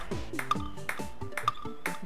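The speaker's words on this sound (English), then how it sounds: "the only main sound I can hear is myself and the click from my Wii remote speaker." Short bright clicks from a Wii remote speaker during a Wii Play ping pong game, falling in a steady back-and-forth rhythm over game sounds, close and moderately loud.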